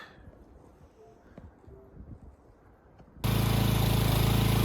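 A pressure washer fitted with a blue tip nozzle kicks on abruptly partway through, its loud, steady spray roaring close and constant after a stretch of quiet outdoor background with faint voices.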